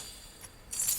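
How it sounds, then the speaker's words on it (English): Small porcelain pieces crinkle and clink together in a quiet, brief burst, with a faint tinkle early on and a brighter cluster of light clinks near the end. "30 tiny little clips between half a second and 2 seconds long of the porcelain crinkling against each other"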